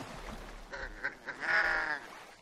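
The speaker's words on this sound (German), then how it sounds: "hier sind die ganzen Enten jetzt" Several ducks quack in short nasal bursts, then a longer run of overlapping calls from a flock in The Forest survival game, moderately close with no talking.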